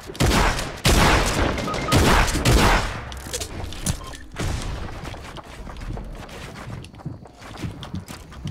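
Rapid gunfire from a Fortnite match, dense loud bursts of shots in quick succession that crowd the first few seconds, then continue as a busier, slightly lower stream of fire with footsteps and clatter mixed in.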